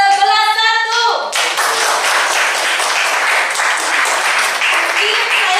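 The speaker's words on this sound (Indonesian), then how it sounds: "ada baiknya kita memberikan tepuk tangan dulu untuk kelompok" A group gives a round of hand clapping at an Indonesian teacher coaching session. A dense, steady burst of many hands starts after a brief tonal sound and carries on evenly and loudly to the end.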